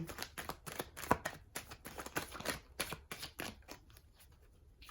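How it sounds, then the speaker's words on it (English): Tarot cards are shuffled close by in quick, rhythmic bursts of soft papery riffling and tapping, fairly quiet, with no talking. "I'm going to shuffle a little bit more"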